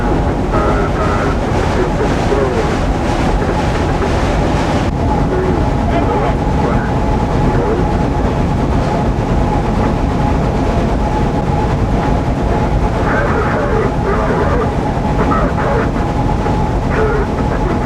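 Union Pacific Challenger 3985 steam locomotive climbs the Cajon Pass upgrade eastbound from Lugo with the throttle well open, a loud continuous roar and rumble heard close up from the cab, with a voice talking over it.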